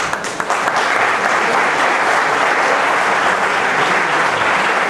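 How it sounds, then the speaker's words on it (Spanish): A concert audience applauds steadily and loudly for about five seconds, a dense wash of clapping with no pauses. "la doctora Ovidia Escaraballo, a la que recibimos con un aplauso."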